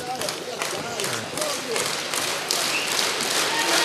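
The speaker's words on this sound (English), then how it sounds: "Crowd really behind Eriksson here." Spectators at an MMA event cheer and clap for a fighter, a broad, roaring crowd wash with bursts of applause and thuds rising and falling throughout, under steady commentator talk.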